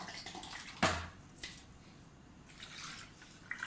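About 300 ml of water goes into the juicer jar of a Panasonic MX-AC400 mixer grinder holding ice and condensed milk; a sharp splash is followed by faint dribbling and a few soft drips, close and quiet, no voices.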